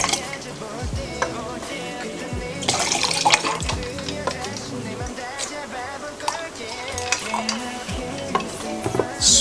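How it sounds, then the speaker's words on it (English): Yakult is poured over ice in a glass for a soju cocktail: a close, steady splash of liquid with small clinks and knocks of ice cubes throughout. "So we start with the ice. Then we add the Yakult, equal amount"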